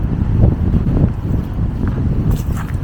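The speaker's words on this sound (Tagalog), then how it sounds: "Presko ng hangin. Presko talaga hangin dito." Steady breeze buffets the microphone at a beach, a continuous low rumbling wind noise with gusty swells and faint background sounds, no speech.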